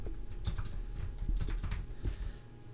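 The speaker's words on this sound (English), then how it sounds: "we'll type in your search" Rapid, steady clatter of keys on a computer keyboard while entering code for a web app, close and continuous with no talking.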